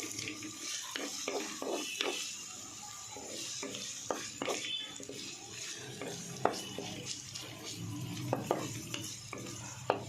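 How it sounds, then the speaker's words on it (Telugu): Chopped onions and green chillies lightly frying in oil for a leafy-greens egg omelette; a soft, fairly quiet sizzle sits under repeated stirring taps and occasional clinks of metal on the pan. "ఉల్లిపాయలు, పచ్చిమిరపకాయలు 2 లైట్గా ఫ్రై చేసుకోవాలి"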